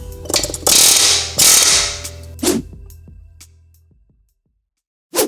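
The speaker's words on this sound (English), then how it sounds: "The air gun was able to get it off." Air impact gun hammering at a wheel hub on a Mercedes W212 E63 AMG, two loud sustained bursts of rattling, then a shorter burst, fading to quiet before a final brief hit.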